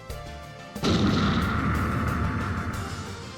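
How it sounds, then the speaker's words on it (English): A powerful shockwave erupts from Kazuya's fist in a sudden booming blast, hitting abruptly and rolling on as a loud, sustained rumble. "Kazuya's fist unleashed an insanely powerful shockwave"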